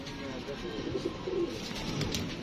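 Several pigeons at a loft, including a hen released with clipped flight feathers, give low burbling coos over a steady murmur of background noise, with a voice talking nearby.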